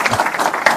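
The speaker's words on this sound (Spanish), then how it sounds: "Un aplauso para el doctor." A burst of applause from a conference audience for a speaker, steady clapping filling the short moment at close range.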